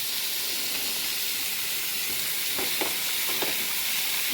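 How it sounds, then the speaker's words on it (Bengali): Fried prawns added to a sizzling pan, a constant bright hiss of hot oil with a few soft clicks and stirs near the end, close and steady, no talking. "এই যে চিংড়ি মাছটা যে ভেজে রেখেছিলাম, এটা না এবার দিয়ে দিই এর মধ্যে।"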